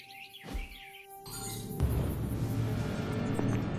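Birdsong chirps in the Marvel's Midnight Suns game hub, with brief tweets and a high whistling call over a soft, rising ambient bed.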